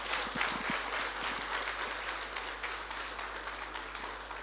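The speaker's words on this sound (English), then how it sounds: "Please clap hands." An audience at a business meeting claps, with a broad wash of steady applause, a few sharper claps early on, then gently tapering, and a low electrical hum underneath.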